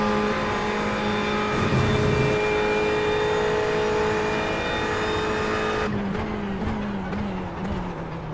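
Several LMP2 race cars approaching at Spa in iRacing, a sustained engine drone with multiple overlapping tones rising as the cars close in, then shifting pitch abruptly near the end as they draw level.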